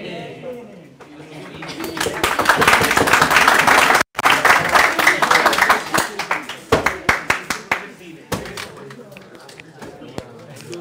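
An audience claps in a lecture hall for the student who took first position, a dense burst of applause that swells, drops out abruptly, then thins into scattered individual claps near the end.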